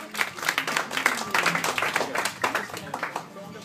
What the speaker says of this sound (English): Big applause, Cornelia.